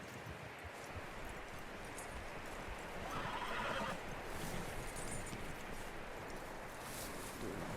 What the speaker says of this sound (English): That looks like a decent horse. You should keep him. Get that horse hitched.